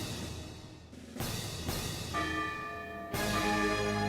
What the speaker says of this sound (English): Bells pealed throughout the town as Cinderella was welcomed back to the castle.